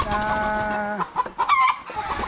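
White chickens, gamefowl on a gamefarm, clucking close by in a quick run of calls, with a longer drawn-out call at the start and a livelier burst of clucks near the end.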